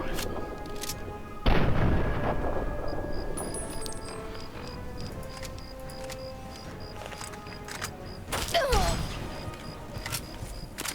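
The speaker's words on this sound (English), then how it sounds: "I think that was an anti-material rifle." Fallout 3 anti-material rifle shot, a single heavy booming crack followed by a long decaying tail, with another sharp blast later amid faint game ambience and scattered clicks.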